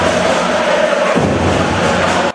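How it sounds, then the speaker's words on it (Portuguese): Spectators in the stands at a school sports final cheer loudly and steadily, a dense close roar of voices that holds for a couple of seconds before cutting off. "Nas arquibancadas, uma torcida no ritmo quente do jogo."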